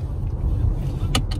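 A Chevrolet Impala with 245,000 miles pulls in fourth gear, a steady low engine drone inside the car, close and constant, with a brief click near the end.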